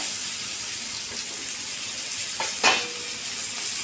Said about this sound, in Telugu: ఇప్పుడు ఈ టమాటా ముక్కలు వేస్తాను ఇందులో